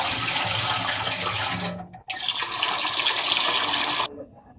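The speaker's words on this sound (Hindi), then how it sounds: "हम चावलों को धो लेते हैं।" Rice is rinsed under running water in a home kitchen. Water splashes and pours close by, briefly dips, then flows again before cutting off sharply.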